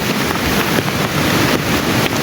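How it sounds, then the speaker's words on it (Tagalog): Water at a waterfall, Animals Falls in Agusan del Norte, rushes loudly in a dense, steady roar, close to the microphone with gusty wind buffeting mixed in. "Biglang lumakas yung tubig oh"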